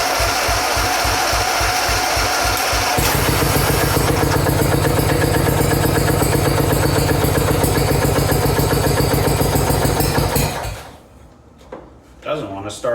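A 1997 Mastercraft riding mower engine runs loudly and steadily close by, settling into a faster, denser drone after about three seconds before cutting out near the end, followed by a few faint knocks.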